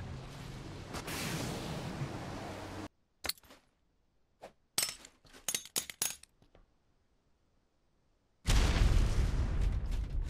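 Grenades go off in Ark Survival Ascended: a loud sustained blast roar, then a scatter of sharp bangs and crackling debris pops, a brief lull, and another heavy rumbling detonation at the end.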